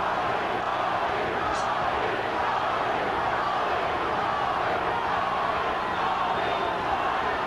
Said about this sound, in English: Crowd begins to try to lift the champion.